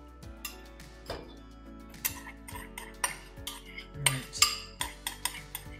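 A utensil stirs butter and sugar for caramel in a pan, giving rhythmic, bright clinks and taps against the metal, steady at first and quickening toward the end; a voice briefly speaks.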